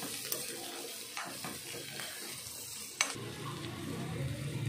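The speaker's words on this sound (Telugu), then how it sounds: "చూడండి ముక్కలు ఉడికిపోతున్నాయి" Cluster bean pieces cook in a pan with a steady close sizzle and bubbling, a few light clicks and stirring knocks, then a louder fuller simmer after a brief pop partway through.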